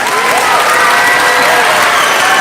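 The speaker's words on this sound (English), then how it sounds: "Let's give it a little big round of applause for our 7th and 8th grade bands" Audience applause for the 7th and 8th grade bands at a middle school winter concert, a dense steady crowd clapping that stays loud and even throughout, with no talk over it.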